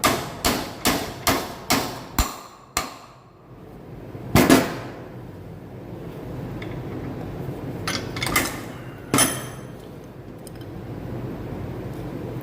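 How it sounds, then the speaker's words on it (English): A large-face ball peen hammer taps a new bearing onto a Polaris Axys driveshaft in a quick run of about eight sharp metal strikes, then a few scattered, heavier knocks follow after a pause, close and clear. "we're going to tap this new bearing on here now"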